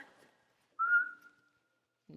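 A person gives a single short, clear whistle to signal a horse, fairly close and alone against near silence, with faint rustling before and a brief low sound at the end.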